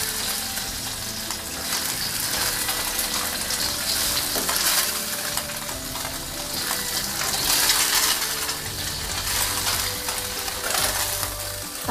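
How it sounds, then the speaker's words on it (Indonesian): Tofu egg fries in hot oil in a pan, a dense, steady sizzle and crackle that fills the whole stretch at close range with no talking. "Goreng tahu telur pelan-pelan."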